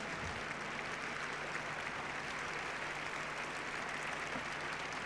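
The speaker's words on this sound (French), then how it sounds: "puisque vous êtes en train d'applaudir" An audience at the Saut Hermès show jumping event in the Grand Palais applauds the young riders, giving a steady, even wash of clapping that sounds distant and moderately soft for several seconds.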